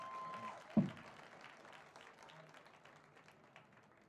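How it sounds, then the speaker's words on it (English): Applause at a college field hockey senior day recognition, a soft, distant spread of clapping from the stands that fades gradually after a brief thump, with no talking over it. "A nice round of applause here for Ember Powell."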